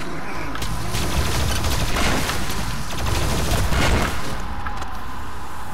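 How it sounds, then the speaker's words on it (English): A plasma rifle fires in DOOM Eternal in rapid, continuous bursts that swell and ease over a few seconds, backed by heavy rumbling booms of in-game combat. "Plasma rifle, yeah. Plasma rifle, cool."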